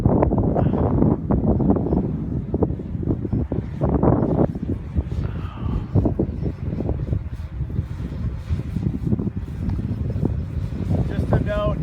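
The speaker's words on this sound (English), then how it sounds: "Just to note, it's extremely heavy wind." Extremely heavy wind buffets the microphone during an outdoor drone test, a loud, gusty roar that rises and falls in constant bursts, with a voice talking briefly over it.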